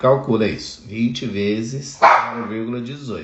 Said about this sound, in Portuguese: Desculpa o cachorro que ele perturba.